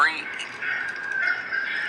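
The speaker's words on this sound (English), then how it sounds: "You're going to hear these animals, chickens and dogs, making all kinds of noise" Chickens squawk and cackle noisily at a middle distance, a steady jumble of overlapping calls with no pauses.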